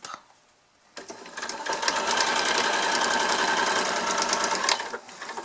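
A sewing machine back-stitches over elastic on a fabric face mask, a steady loud mechanical whir running for about four seconds after a short quiet start.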